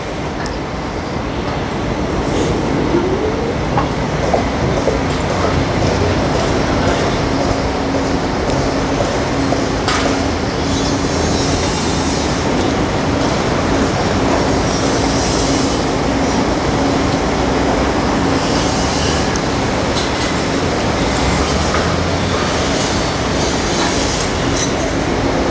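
A train rumbles steadily at a railway station platform in Stuttgart, with continuous loud wheel roar, rhythmic clatter and occasional faint squeals over the full length, no speech.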